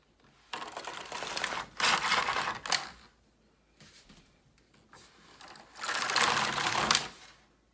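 A Singer knitting machine carriage is pushed across the beds in repeated passes, giving a busy, clattering mechanical whir in separate bursts with short pauses between the rows, close up and fairly loud.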